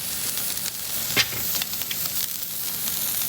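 Bologna and cheese frying in a pan, a steady, fairly loud close sizzle with a brief spatter burst partway through, no voices.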